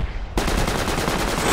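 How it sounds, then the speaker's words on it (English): Enemy automatic fire in the shooter game Project Reality bursts in suddenly and rattles on as a loud, rapid, unbroken volley, with no one talking. "It was enemy shooting, and then they shot me."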